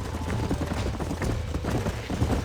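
Horse hooves clip-clop in Red Dead Redemption, a quick, steady run of close, moderately quiet hoofbeats that continues throughout.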